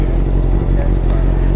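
A Honda CBR650 motorcycle with a loud exhaust idling during warm-up, a steady, close, deep rumble throughout with no revving.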